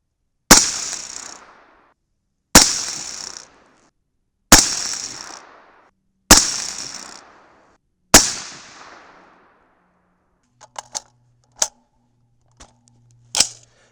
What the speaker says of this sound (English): Okay, so we finally shot a halfway decent group.